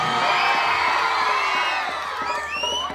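A crowd at a Bhojpuri stage show cheers, whoops and claps loudly and continuously, a dense wall of voices with shrill shouts rising near the end.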